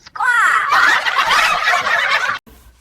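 A green parrot squawks loudly and close, one long harsh gobbling call that holds for a couple of seconds, then cuts off abruptly.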